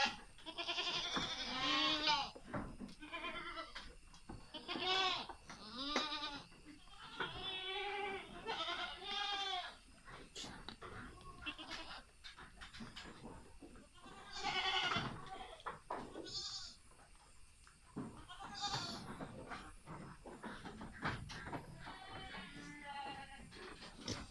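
Many goats bleating on a farm, overlapping wavering calls from several animals nearby, some loud and close, others softer, continuing throughout.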